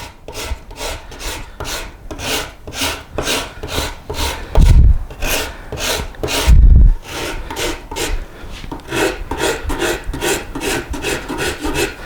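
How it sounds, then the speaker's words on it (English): A wood rasp levels a carved flame maple guitar top in steady, rhythmic back-and-forth strokes, each a close, coarse scraping rasp, with two heavier thumping strokes partway through and no talking. "this rasp is great. It lets you come in nice and flat, and you can clean it up just the way you want it to"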